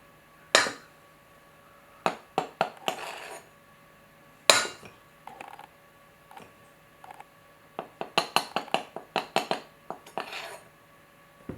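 A spoon clinks and scrapes against a bowl while sourdough bread is being mixed, in sharp irregular clusters of knocks with quiet gaps between them.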